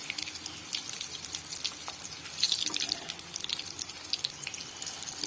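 An egg and potato chop fries in oil, turned on all sides, giving off sparse, light crackles and pops over a quiet background hiss.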